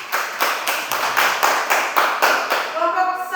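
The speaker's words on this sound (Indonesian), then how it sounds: "Tepuk tangan dulu untuk kelompok 2" A classroom of students claps together for a group of classmates, a fast, even run of close, loud handclaps that carries on steadily and ends with a faint tonal voice.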